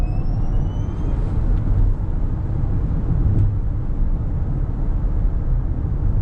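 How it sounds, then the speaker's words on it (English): A quad-motor Rivian R1S electric SUV held on the brake gives off a steady broadband whir and hum with rising high tones at the start, close and continuous, with no voices. "I love the sound of the electrical motors."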